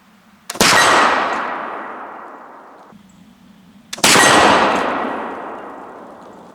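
Two sharp rifle shots from a swivel breech rifle at a shooting range, spaced about three and a half seconds apart, each a loud crack followed by a long ringing decay.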